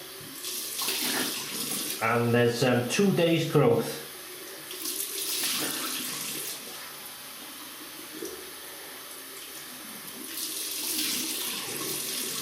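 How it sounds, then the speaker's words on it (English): Tap water running into a bathroom sink while someone rinses their face, a steady splashing hiss with short bursts of speech early on and quieter gurgles after. "So I'm just going to rinse my face."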